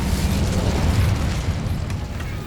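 Incendio fire spell in the Hogwarts Legacy video game erupts as a loud, sustained roaring blast with heavy low rumble, holding steady for about two seconds before easing slightly.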